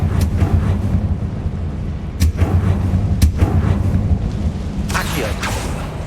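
A Confringo blasting spell cast in Hogwarts Legacy, heard as a few sharp booming blasts over a low rumbling game backdrop, loud and close.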